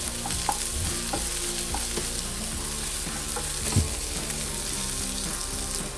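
Paksiw sizzles steadily in hot oil while a utensil stirs it, scraping the pan in irregular taps and clacks above a continuous loud frying hiss, with no voices.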